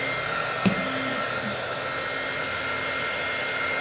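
A heat gun blows a steady, loud hiss while heat-setting embossing ink on a papercraft project, with a faint click early on and no talk over the constant whoosh.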